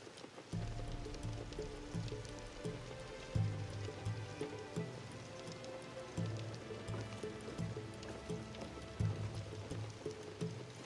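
Steady rain patters in Assassin's Creed Shadows, with scattered drops and low thuds like hooves or footsteps beneath a soft ambient hum, at a moderate level.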